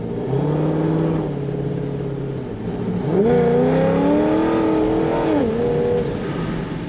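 A supercharged 2008 Chevrolet Corvette Z06 tribute accelerates hard, its V8 engine roaring close and loud, pitch climbing through the revs, dipping briefly at a shift around three seconds, then rising again before easing off.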